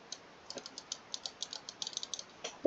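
An old computer mouse clicks loudly and rapidly, about twenty sharp, close clicks in an uneven rhythm with no talking.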